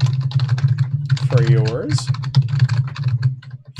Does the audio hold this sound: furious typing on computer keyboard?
yes